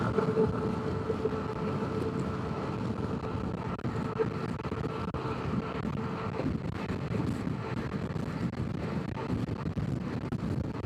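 Steady, heavy wind buffets the microphone on a moving Honda PCX125 scooter in a constant low roar, with a faint engine hum underneath and no talking.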